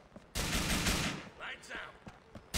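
Gunfire in the video game GTA IV: The Lost and Damned, with a loud burst of shots followed by a few fainter pops and a short trailing noise.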